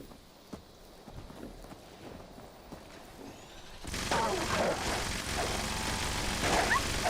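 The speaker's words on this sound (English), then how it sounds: "Was that Darth Vader's dog" A dog in Fallout 76 barks and whimpers in scattered yips, first faint, then joined by a louder, busier burst of noise in the second half.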